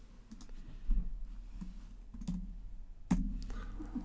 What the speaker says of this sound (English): In terminal, type the text.